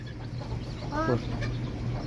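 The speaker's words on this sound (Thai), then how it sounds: "ไก่น้อย" A chicken gives a short, close clucking call against steady outdoor background noise.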